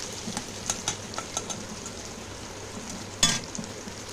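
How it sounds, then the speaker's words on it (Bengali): Bitter gourd and onion fry in a pan with a low, steady sizzle, broken by soft scraping stirs and one sharper clatter of the spoon against the pan. "এই দেখো উচ্ছে আর পেঁয়াজটা বেশ অনেকটাই ভাজা হয়েছে"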